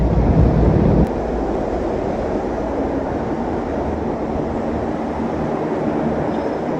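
A loud, steady rumble of an underground Blue Line metro train at a station fills the scene, with a brief heavier burst at the start before settling into a constant roar.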